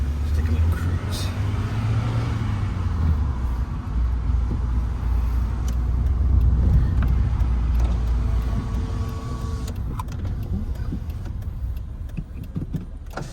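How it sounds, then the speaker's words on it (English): A manual car cruising on the highway, with a steady low engine drone and road rumble throughout and a person talking over it. "I'm just gonna go for a little drive, go out on some highways, just take a little cruise."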